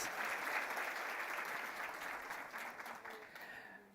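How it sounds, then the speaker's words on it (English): Audience at a women in finance and insurance summit in Namibia applauding together in a full room, a sustained even burst of clapping that gradually tapers off. "Please give yourselves a massive round of applause."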